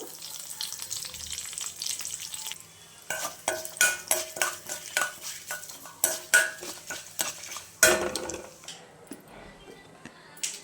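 Mustard seeds, urad dal, cumin and curry leaves tempering in oil, a crackling fry under a quick run of loud metal spoon clinks and scrapes against the pan, close, with a sharp clatter near the end.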